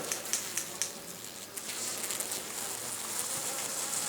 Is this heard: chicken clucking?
no